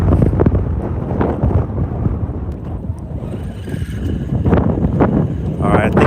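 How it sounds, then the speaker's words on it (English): Strong wind buffeting the microphone out on the water during bass fishing, a loud continuous rumbling roar with gusty swells throughout. "I think that wind is coming back"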